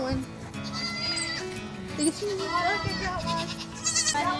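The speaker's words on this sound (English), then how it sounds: "As you can see, these little beautiful goats." Goats bleat repeatedly nearby at a Florida campground, loud wavering cries rising over steady background chatter and farm ambience.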